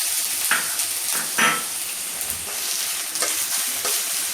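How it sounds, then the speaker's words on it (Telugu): Green chilies and brinjal pieces fry in hot oil with a loud continuous sizzle, broken by scraping stirs and occasional pan clatter, with no talking. "ఇప్పుడు ఈ వంకాయ ముక్కలు కూడా వేసుకున్నాం దీనిలోనే పచ్చిమిర్చి కూడా వేయించుకుందాం"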